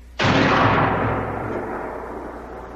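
A single heavy gunshot or artillery-like blast rings out after a command to fire, a sudden loud crack followed by a long rumbling decay that fades over about two seconds.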